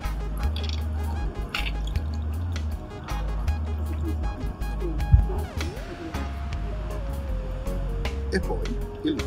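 Gin and bitter poured together into a glass for a Negroni, a soft trickling pour with drips running over a low steady background hum, moderately close and fairly quiet.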